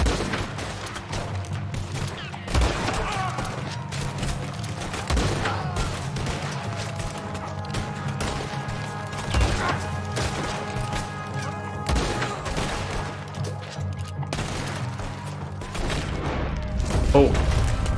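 Sniper rifle gunshots from Red Dead Redemption 2 ring out as several loud, sharp cracks a few seconds apart, over a steady bed of game ambience and music.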